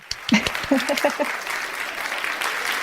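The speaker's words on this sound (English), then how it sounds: "give a round of applause to Ella" A small group claps after a podcast host calls for a round of applause, a moderate patter of hands that follows a few brief spoken syllables at the start and carries on to the end.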